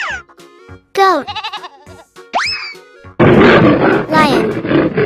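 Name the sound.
lion roaring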